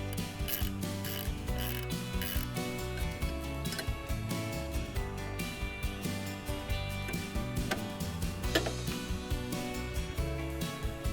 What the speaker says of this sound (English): So we're going to take out this bolt